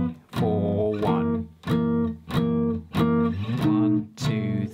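A guitar strums a sequence of dominant seventh chords from a song's progression, with about six sustained strums each ringing for under a second, clear and close with no talking.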